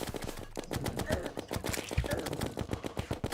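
The Mini Shark gun in Terraria fires bullets in a rapid, even stream of sharp clicks that carries on the whole time, fairly quiet, with game sounds mixed in behind.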